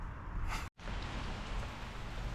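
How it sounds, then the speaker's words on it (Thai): Steady night rain pours down onto a house just fitted with underground gutter drainage pipes, a dense continuous hiss with no voices. "ฝนก็ตกทันทีเลยนะครับ"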